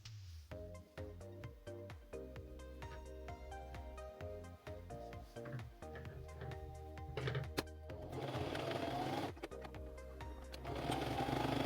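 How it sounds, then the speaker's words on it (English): A sewing machine stitches the sides and bottom of a fabric gift bag, running in a steady, rapid mechanical whir with brief pauses and restarts, close and alone with no talking. "we are going to sew the side and the bottom"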